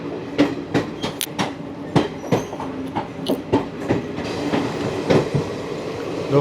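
Gujarat Superfast Express running slowly past track work, heard from inside an AC chair car: a steady rumble with repeated clickety-clack wheel knocks over rail joints, fairly close and loud, with no talk.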